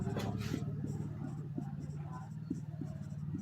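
Pen writing on paper while a maths problem is worked out, a run of quick, close scratches and taps under a voice speaking steadily.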